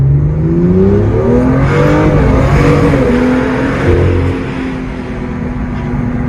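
A BMW M2 LCI accelerates hard at full throttle from first gear, its engine note climbing loud and close before dropping as it shifts into second and pulls again.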